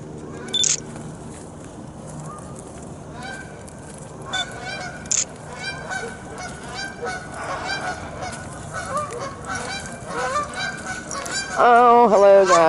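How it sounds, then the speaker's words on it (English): Geese at a park pond give scattered honks over a steady outdoor murmur, with a louder close burst of honking at the end. "Oh, more geesies. Look at there."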